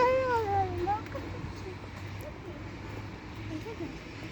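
A cat meows once near the start at a cat park, a rising then falling cry, followed by quiet room noise and a low steady hum.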